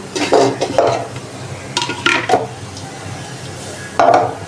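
A bowl is handled in a home kitchen beside a gas stove, giving a few sharp clinks and knocks of dishware spaced out over a quiet, hissing background.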